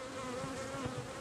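Honey bees buzzing outside a hive during a beekeeping split, a steady close droning hum that stays even and unbroken over a brief moment.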